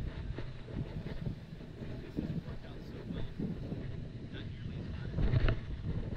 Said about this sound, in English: if it's hard to hear with the wind blowing